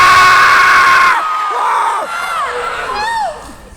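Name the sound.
people screaming in horror, imitating monster chaos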